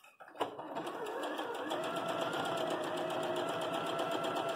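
Sewing machine stitching quilt fabric strings for an X-string block, running steadily and close by after a brief start, with a fast even needle rhythm and no talk.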